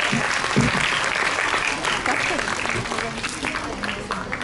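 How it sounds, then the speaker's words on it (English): Audience at a school inter-class patriotic quiz competition gives the teams a huge round of applause, a steady, full wash of clapping that holds for several seconds and eases slightly toward the end. "Could we have a huge round of applause for them?"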